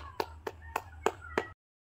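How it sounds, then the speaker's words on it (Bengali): At a school cultural program, a few hands clap for the headmaster: five sharp, evenly spaced claps close by over a low background hum, then silence. "প্রধান শিক্ষক মহাশয়ের নামে একটু হাততালি"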